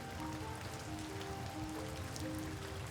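Heavy rain falls in a steady, dense hiss, with continuous patter and no gaps, moderately loud and without voices.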